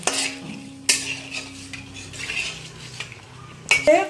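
Small fish being stirred in a pan with dry red chilli, bay leaf and whole garam masala, a few sharp metal utensil scrapes and clinks over a faint steady sizzle, close and clear, with no talking.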